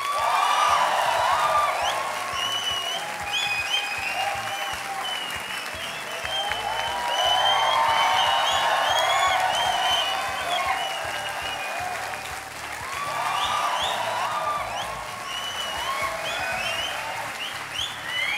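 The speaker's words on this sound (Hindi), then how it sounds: "और ये तालियां बजते रहें" A studio audience at a courtroom-style talk show breaks into long, sustained applause as Bhojpuri film star and MP Manoj Tiwari is welcomed, with dense clapping that swells and ebbs in waves and occasional whoops and cheers.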